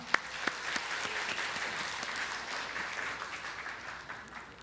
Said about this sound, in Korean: 박수로 한번 맞이합시다